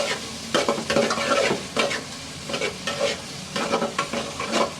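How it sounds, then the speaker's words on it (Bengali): Onions fry in hot oil for a rohu fish curry, a close, loud sizzle broken by repeated rhythmic scrapes of a spatula stirring through the pan. "পেঁয়াজগুলো ভাজা ভাজা হোক"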